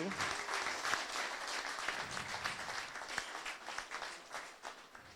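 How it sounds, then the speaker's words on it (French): Applause rises for the second deputy mayor at a municipal council investiture in Gourbeyre, a crowd of hands clapping steadily and then thinning toward the end, with a few sharper claps poking through. "Deuxième adjoint, vous pouvez l'applaudir"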